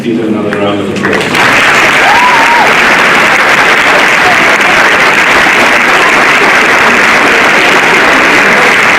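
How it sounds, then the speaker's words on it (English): Loud, sustained applause from an audience at a school prize giving, dense clapping filling the hall for several seconds after a brief spoken introduction. "Let's give another round of applause."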